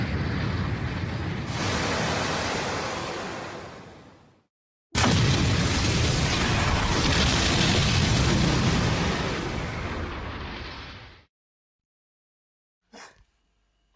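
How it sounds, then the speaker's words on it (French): Two long, loud rumbling blasts fill most of the stretch, each swelling and then trailing off, followed by a short dull thump after a silent gap. "T'as vu cette explosion de malade?"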